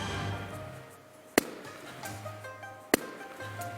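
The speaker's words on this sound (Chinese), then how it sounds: "我们模拟的其实是爆炸" A rubber balloon heated by a flame bursts with two sharp, loud pops about a second and a half apart, set against a quiet room with low background hum.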